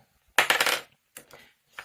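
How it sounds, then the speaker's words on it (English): Dice are rolled for a cash stuffing savings game: one sharp, close clatter, then a couple of lighter clicks as they settle. "So let's roll the dice."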